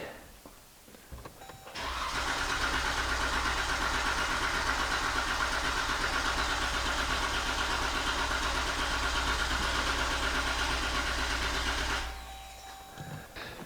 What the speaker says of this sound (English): Cold engine maybe the first time, but that sounded pretty normal to me.